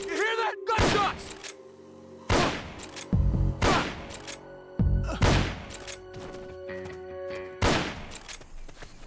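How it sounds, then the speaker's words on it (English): Gunshots in the Metal Gear Solid video game during a train mission: loud, heavy bursts of gunfire repeating every second or two, each with a thudding impact and a short decay. "You hear that? Gunshots!"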